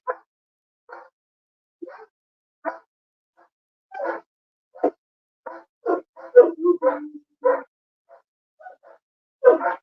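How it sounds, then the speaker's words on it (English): Dogs bark indoors in scattered, uneven bursts, some single woofs and some quick clusters with yips, at moderate distance against an otherwise quiet background. "Sorry about the dogs barking."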